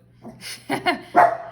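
A pet dog barks indoors with a few sharp yips and barks of rising loudness, close by, with a faint low hum underneath.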